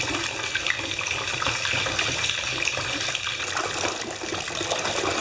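A Lush bath bomb fizzes in bath water, giving a steady, close wash of bubbling and running water that continues without pause, with no talking over it.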